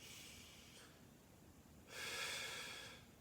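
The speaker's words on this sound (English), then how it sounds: "take a nice deep breath in" A breath in through the nose during a hip and low back mobility exercise: a brief soft sniff, a pause, then a longer, louder, airy inhale, close to the microphone.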